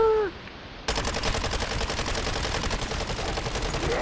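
Sustained rapid automatic gunfire in the Call of Duty MW3 Zombies video game, starting abruptly after a brief lull and continuing loud and steady.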